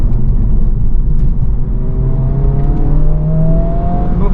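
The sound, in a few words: 2024 Honda Civic Type R revving out in second gear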